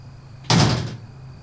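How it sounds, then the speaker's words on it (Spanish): A single door sound inside a house, a close, fairly loud thud or slam that lingers for about half a second over a faint steady hum. "En ese momento se escuchó una puerta"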